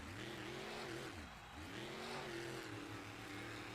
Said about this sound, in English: Spinning that truck around.